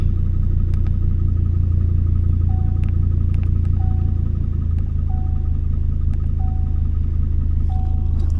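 Rebuilt Chevrolet Colorado pickup engine running steadily with a constant low hum and rumble, close and loud, with faint occasional ticks and short tonal chirps over the drone.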